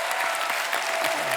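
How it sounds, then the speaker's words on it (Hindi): Steady applause from a television comedy show studio audience, dense clapping that fills the whole moment without a break. "खैर पूरी कास्ट के लिए एक बार जोरदार ताली"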